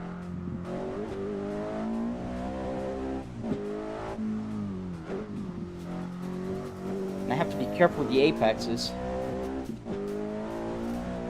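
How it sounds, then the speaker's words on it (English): A 2005 Volvo S60R with a five-cylinder turbo engine races in Assetto Corsa, its engine droning and shifting steadily with brief tire squeals, while someone talks over it throughout. "The S60R has a very nice 5-cylinder turbo engine."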